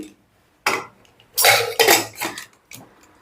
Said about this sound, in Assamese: এতিয়া মই ঢাকোনখন লগাই দিম।